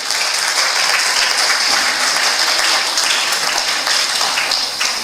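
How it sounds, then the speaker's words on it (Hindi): An audience at the opening ceremony of a provincial fine arts exhibition in Madhesh Province claps steadily and loudly, a dense, even wash of applause with no break and no voices over it. "एक बार ताली तो बजबियो।"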